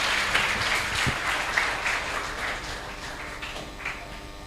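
An audience claps for a child called to the front at the opening of a special screening of the film Nusantara The Story of Gajah, steady dense applause filling the room throughout at moderate loudness.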